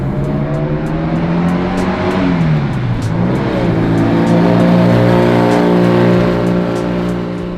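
A turbocharged custom 1967 VW Beetle revs and accelerates, engine pitch dipping then climbing steadily in a loud, close, sustained roar with a faint tire squeal, no talking.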